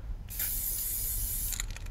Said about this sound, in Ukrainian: Потрусив балончик, проведемо пробне розпилення.